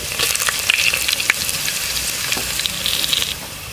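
Dried red chillies fry in hot oil for a traditional village fish curry, a loud, close, steady sizzle with bright crackles and brief stirring clinks.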